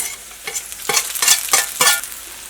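Chopped onion hits hot oil in a pan with a few sharp bursts of loud, close sizzling crackle, each swelling and fading in quick succession, with no talking.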